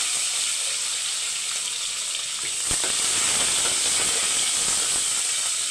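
Curry leaves, a dried red chilli and three green chillies sputter in hot oil for a Tamil festival dish, a steady loud sizzle and hiss throughout with a sharp pop near the middle, no talking.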